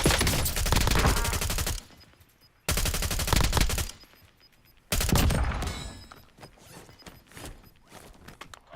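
Bursts of automatic gunfire in the Call of Duty: Warzone battle royale on Verdansk, two long loud rattling volleys separated by short gaps, then a third burst fading into scattered quieter shots and clicks.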